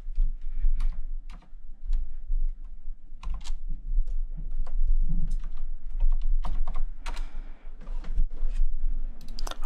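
A password goes in on a computer keyboard, the keys clattering in rapid, irregular flurries close to the microphone, with brief gaps and heavier thumps in between.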